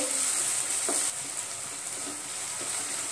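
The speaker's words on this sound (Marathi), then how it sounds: "तोही आपण त्याच्यामध्ये परतून घेऊ। टोमॅटो मऊ झाला पाहिजे।" Tomato sautéing in a pan for a Marathi masoor curry, a steady, moderate sizzle with a few soft stirring scrapes and no voices.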